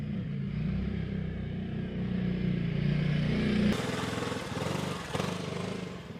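A Zontes 368E motorcycle cruises along a freeway, its steady engine drone blended with heavy wind rush that shifts midway as the ride continues, with no talking.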